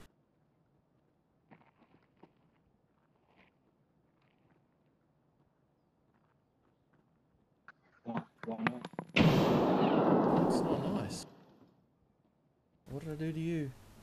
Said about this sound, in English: Why do you throw grenades at me?